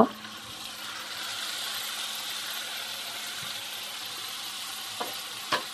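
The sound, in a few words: marinated chicken frying in pan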